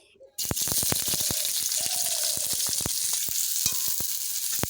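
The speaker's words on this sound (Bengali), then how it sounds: "এবারে পেঁয়াজ আর কাঁচা লঙ্কাটা ভালোভাবে ভেজে নিতে হবে" Chopped onion and green chilli fry in hot white oil in a pan, a loud, steady sizzle that starts abruptly and crackles with frequent close pops throughout.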